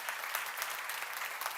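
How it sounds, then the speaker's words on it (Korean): A seminar audience at a Deuteronomy lecture applauds, a steady wash of many hands clapping at moderate distance, fairly quiet, with a few sharper claps standing out and no speech over it. "박수 주시기 바랍니다"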